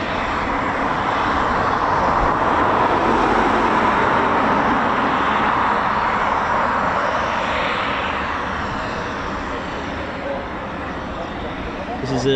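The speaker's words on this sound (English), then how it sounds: "This is an Embraer ERJ145." An Embraer ERJ145 regional jet passes at an RAF station, its engines a loud, steady broadband roar that swells and then eases slightly as it moves away.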